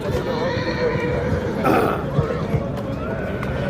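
A horse neighs loudly in a show ring while shown alongside its foal, with one clear whinny near the middle over steady crowd chatter and background voices.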